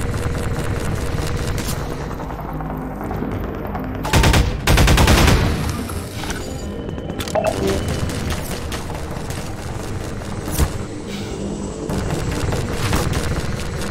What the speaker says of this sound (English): Remember, they don't really shoot in bursts, they just shoot.